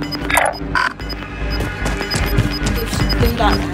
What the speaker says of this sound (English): That gun sounded really close.